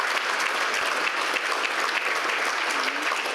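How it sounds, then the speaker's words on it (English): Applause at a football and netball league awards night, a steady, full round of clapping from the room, fairly close, with a faint voice briefly audible near the end. "round of applause once again, ladies and gentlemen."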